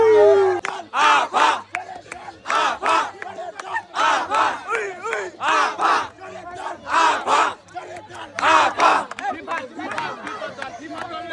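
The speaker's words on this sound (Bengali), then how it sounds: "স্পেনের খুশিতে খুশিতে আমরাও রোনালদোকে নিয়ে স্লোগান দিলাম।" Football fans chant a slogan about Ronaldo, a crowd shouting in strong rhythmic bursts that repeat roughly every second or so, loud and near, with brief pauses between phrases.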